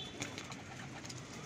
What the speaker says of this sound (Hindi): जोड़ों वाले कबूतर हैं